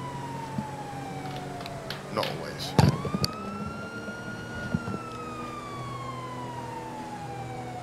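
A police car siren in GTA 5 Online gives one long rising and falling wail over engine rumble and a few thumps, while a voice briefly talks.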